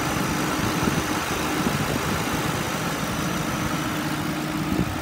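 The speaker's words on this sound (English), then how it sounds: "Motor sounds good. It idles smooth, revs up nice." A 2011 Ford Crown Victoria Police Interceptor idles at a steady, even rumble, close and continuous throughout, with no talking over it.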